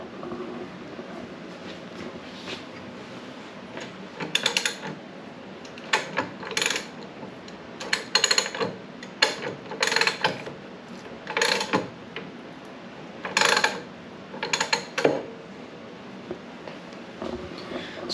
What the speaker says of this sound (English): he tightens it down, tightens those rollers up a little more